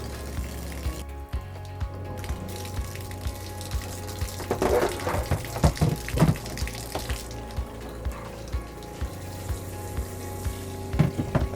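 Water running from the bathroom sink tap of an RV while the water system is sanitized with bleach: a steady, fairly soft flow with light splashing and a few clatters, and no talk over it.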